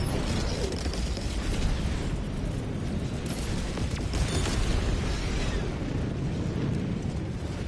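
Strafing-run explosions in Helldivers 2, a dense roaring wall of blasts and rumble that stays loud and unbroken throughout, no voices.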